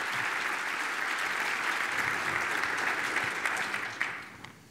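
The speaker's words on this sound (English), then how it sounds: "Let's give them a round of applause to welcome them." A conference audience gives sustained applause welcoming a keynote panel at a state policy event, a dense, even wash of clapping that fills the room the whole time and thins slightly near the end.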